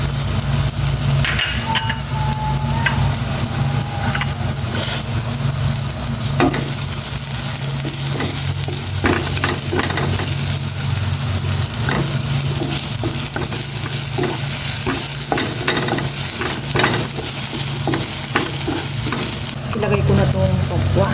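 Onion goes into a pan of garlic already browned in oil and sizzles loudly and continuously, with repeated scraping strokes of stirring close by and no talk.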